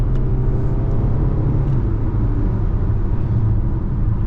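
A Fiat Egea Cross 1.6 with dual-clutch automatic, 130 hp, pulls hard from inside the cabin, its engine a steady loud droning rumble under road noise with no talking.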